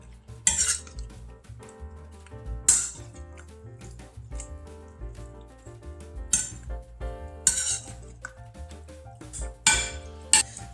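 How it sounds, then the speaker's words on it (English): A spoon stirs a breakfast casserole mixture of polenta in a metal pot or bowl, with close, irregular clinks and scrapes of utensil on the container over a soft, thick mixing sound. "And let's stir it up a little."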